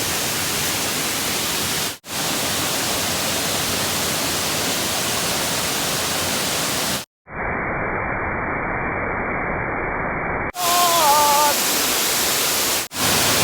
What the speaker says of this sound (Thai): ที่เห็นข้างหน้านี่คือน้ำตก ตาดหมอก